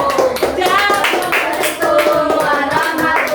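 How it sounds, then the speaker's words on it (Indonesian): A class of students applauds a presenting group, a dense steady patter of many hands clapping close by for a few seconds with some voices mixed in. "Silakan tepuk tangan dulu buat kelompok 1."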